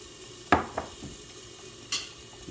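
A spoon stirs egg noodles in a pot of broth at a rolling boil: two quick scraping strokes close together, then a single brighter clink a little later. No one speaks.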